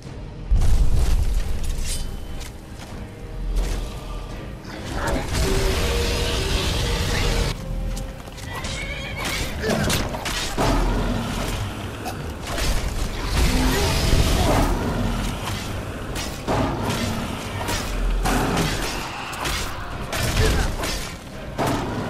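Dragon fight in Skyrim: heavy booms, clanking weapon strikes and roaring blasts arrive in irregular waves, loud and busy throughout with little speech.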